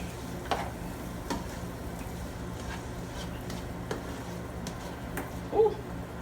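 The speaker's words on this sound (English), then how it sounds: "Alright, guys, so now I'm gonna add in my carrots right now." Carrots sizzle gently in a pan while a spoon stirs them, giving soft scattered scrapes and taps over a low steady frying hiss, close by.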